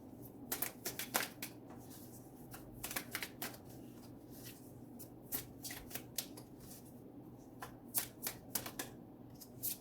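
Tarot cards being handled and shuffled, giving quick bursts of crisp papery riffling and flicks at a steady close distance over a quiet background, with no talking.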